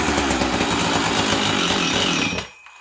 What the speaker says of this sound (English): Let's see how this saw starts cold.